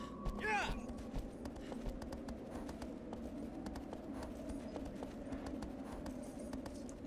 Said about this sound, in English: On our trusty steed, Aggro.